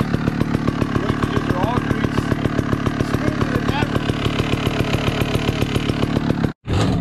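A Sherco/Scorpa trials motorcycle engine putters close by with a fast, even thumping beat as the bike is ridden, cutting out briefly near the end; people talk and cheer over it.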